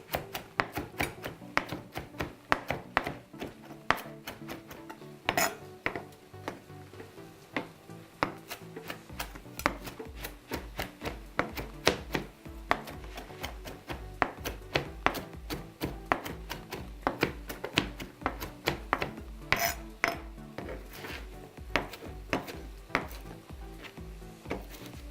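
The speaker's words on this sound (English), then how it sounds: "now I'm going to mince up my kale" A knife chops kale on a cutting board in rapid, steady taps, close and crisp, continuing for about 25 seconds with no talking.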